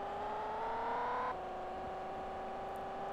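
Car engine in the Acorn Archimedes racing game E-Type on a night level: a steady, loud synthesized engine drone whose pitch climbs, then drops suddenly as if shifting gear and holds level, with a faint blip near the end.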